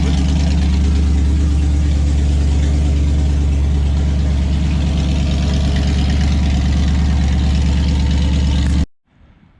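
Steady low rumble of a 1970 Plymouth Cuda engine idling as it warms up, loud and close, running evenly for nine seconds before cutting off abruptly.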